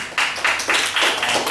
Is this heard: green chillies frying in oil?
no